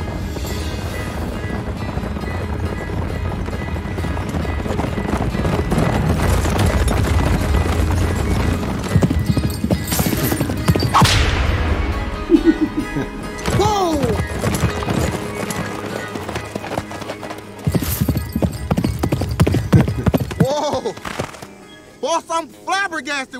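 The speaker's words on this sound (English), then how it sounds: "When you see a black man on a horse going that fast, you just gotta let him fly." A horse galloping with hooves clip-clopping amid loud music and other sounds, busy and dense through most of the stretch, with people talking over it.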